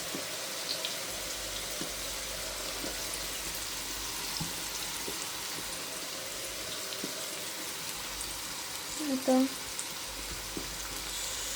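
Food fries gently in a pan over low heat, giving a soft, steady sizzle with scattered light pops throughout. Someone briefly speaks a word near the end.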